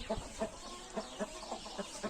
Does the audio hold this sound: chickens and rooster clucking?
yes